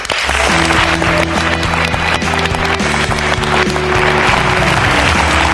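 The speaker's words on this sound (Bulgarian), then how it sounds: "Моля аплодисменти за социолога Сюзан Халил." A television studio audience applauds loudly and steadily while show music plays underneath.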